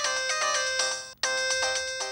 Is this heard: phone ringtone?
yes